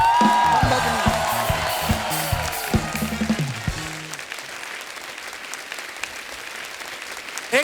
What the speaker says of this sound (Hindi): एक बार जोरदार तालियां हो जाए मंदाकिनी जी के लिए, संगीता जी के लिए और वर्षा जी के लिए।